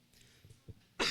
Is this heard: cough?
yes